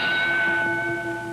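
A boxing ring bell rings between rounds at the Joe Louis versus Rocky Marciano fight, one sustained metallic ring fading slowly, followed by a second sharp clang at the end.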